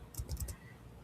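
Quick burst of a few keystrokes on a computer keyboard, faint and close, typing a search term into an app's search field, followed by a quiet pause.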